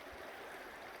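A river flowing beside a campsite in the Brooks Range in Gates of the Arctic, a steady broadband rush of moving water, close and continuous, with no voices.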